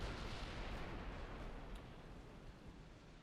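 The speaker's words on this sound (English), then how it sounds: "That was a nice torpedo hit." A torpedo striking a warship in Ultimate Admiral: Dreadnoughts, heard as a faint, distant-sounding muffled blast with a long rumbling roar that slowly fades, with no voices.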